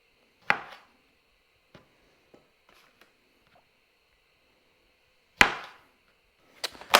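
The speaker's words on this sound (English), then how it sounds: "going to cut up some cherry tomatoes. So just halved" A blunt knife slicing cherry tomatoes in half on a board, with a few sharp, sparse chopping knocks separated by quiet gaps.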